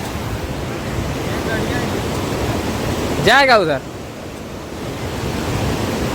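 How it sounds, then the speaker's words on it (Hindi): Floodwater rushes steadily past a blocked road, a broad continuous wash of noise from start to end, with someone speaking briefly near the middle over the flow. "इधर पूरा बाढ़ और पानी पूरा बह रहा है"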